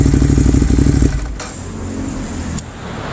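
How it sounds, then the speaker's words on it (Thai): A 2016 Ducati Monster 821 motorcycle's loud, throbbing engine idle cuts out abruptly as it is switched off, leaving a quieter lingering hum and a brief click afterward. "เดี๋ยวขออนุญาตดับเครื่องยนต์นะครับ"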